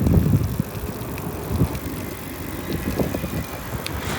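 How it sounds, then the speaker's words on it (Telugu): Strong headwind blowing against a cyclist on a rural road, a continuous low buffeting rumble of wind with gusty swells, loudest at the start and steady after. "గాలి ఫుల్ వస్తుంది ముందు నుంచి"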